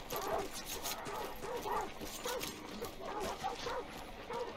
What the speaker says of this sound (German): Da sind laute Hunde.